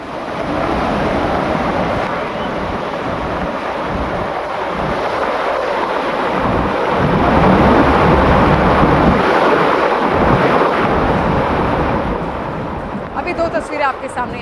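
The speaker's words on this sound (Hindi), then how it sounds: "देखिए ये बरसाती नाले हैं जो अचानक से यहाँ पर उफनने लगे हैं बारिश के कारण।" Rain-swollen drains rush with floodwater after heavy rain in Uttarakhand, a loud, steady roar of turbulent water that continues throughout the clip.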